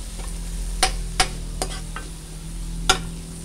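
String beans and eggs stirred in a pan over a low sizzle, with a few sharp spoon scrapes and taps against the pan at irregular intervals, close and fairly quiet, without talking.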